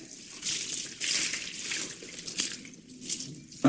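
Hot water mixed with cat shampoo pours from a pitcher over a cat during a home bath, a steady close splashing wash that swells and eases in waves for several seconds.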